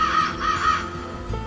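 A crow cawing: a quick run of three or four harsh, close caws in steady rhythm, then a fading tail.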